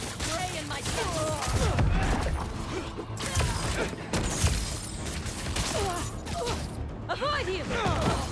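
Gunfire in the game Marvel's Spider-Man 2: scattered rapid shots and metallic clatter inside a busy, moderately loud mix, with voices speaking now and then.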